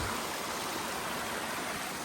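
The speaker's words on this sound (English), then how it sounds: "But nice water feature. I like it." A small water feature near a trail shelter on a mountain hike produces a steady, even rush of flowing water. It is a constant trickling wash heard close by, with no voices.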